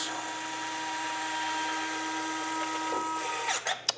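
Retractable landing gear on an RC jet folding up, a steady whirring servo drone that runs for several seconds and ends in a few brief mechanical clunks as the gear locks into place.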